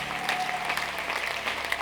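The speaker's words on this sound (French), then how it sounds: "Applaudis très bien pour le Seigneur des Seigneurs" Congregation applauding at a prayer meeting, a steady wash of many hands clapping together at moderate volume without a break.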